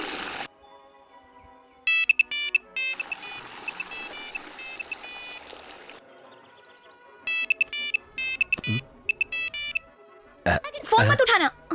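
A phone ringtone plays in repeated electronic bursts of melody, starting and stopping several times, with brief noisy sounds in between.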